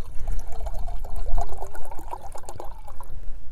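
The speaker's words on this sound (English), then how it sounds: "I'm gonna be adding a little bit of water to this pot. I'm gonna be filling it probably about, let's say about halfway with this water." Water pours steadily into a cooking pot for a camping meal, a continuous close gurgling stream with rising pitch as the pot fills, heard alone without talk.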